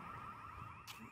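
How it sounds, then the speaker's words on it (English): A car alarm wails outdoors near a Big Lots store, a steady tonal warble holding throughout, fairly faint against the open-air background with a brief noise burst near the end. "That alarm is still going off."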